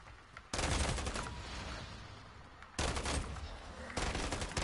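Sustained automatic gunfire from a shooter video game, Call of Duty MWZ, rattling loud and dense in three long bursts with brief drops in intensity between them and no talking.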